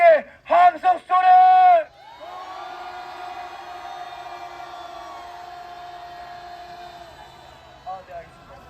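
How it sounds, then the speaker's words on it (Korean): A large crowd at a street rally against a presidential impeachment, outside an anti-corruption investigation office in Korea, lets out a long sustained roar of shouting for several seconds after a single loud voice calls out, then fades. "함성 소리!"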